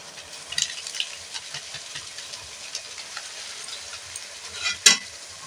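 Spice masala paste for aloo kosha fried and stirred in a pan with a splash of water and Kashmiri chilli powder, a steady close sizzle with scraping spoon strokes and a sharper clatter near the end, no talking.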